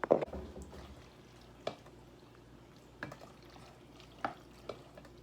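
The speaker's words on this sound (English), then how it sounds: "Okay, I'm gonna put a little bit in a bowl." Barilla Vero Gusto tomato and basil pasta sauce spooned into a bowl, a wet squelch followed by a few soft scrapes and taps of the utensil, close and quiet with no talk.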